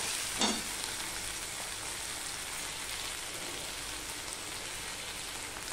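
Chopped tomato stirred into onions frying in a pan on a gas stove, a steady faint sizzle with a soft spatula scrape near the start, no talk.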